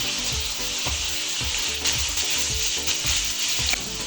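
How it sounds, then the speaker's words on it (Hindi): Chopped tomatoes stirred into mutton frying in a pot, a loud, dense sizzle with rhythmic scraping spoon strokes roughly twice a second throughout. "अब हम इसमें टमाटर डालेंगे हमने चॉप किए हुए।"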